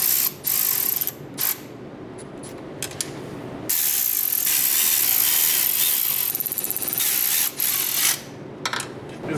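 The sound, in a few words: ratchet snugging bolts on Subaru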